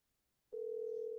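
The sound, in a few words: telephone dialing or ringing out on a call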